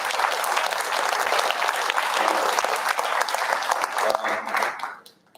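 Audience applause at a farewell event fills the room as loud, dense, sustained clapping that holds steady for several seconds and then fades out quickly at the end.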